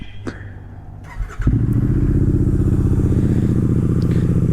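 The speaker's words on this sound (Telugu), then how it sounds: "సో బైక్ని అయితే కోల్డ్ స్టార్ట్ చేసి" A motorcycle engine cranks and catches after a short quiet stretch, then settles into a loud, steady idle close by.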